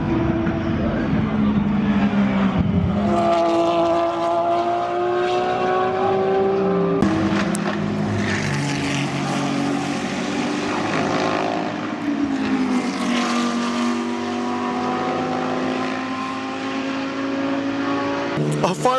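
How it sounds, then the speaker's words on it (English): GT race cars out on track for their first qualifying session at the FIA Motorsport Games, engines droning and shifting pitch as they pass, loud and continuous with a voice talking over them. "the GT cars just gone out for their first quali, so let's go watch it"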